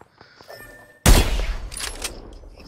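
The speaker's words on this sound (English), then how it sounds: "Opening fire on our prey." Rapid burst of automatic gunfire in Apex Legends erupts loudly after a quiet second of faint game ambience, continuing as a dense, sustained volley with a few tapering shots.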